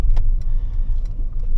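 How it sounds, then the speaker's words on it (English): A 2025 Mercedes-Benz V300d Exclusive van driving on a gravel road, heard from inside as a loud, steady low rumble of tyres on loose stones, with a few light clicks and rattles on top and no talking. "I'm not expecting that everyone is going to be driving fast in this car on gravel"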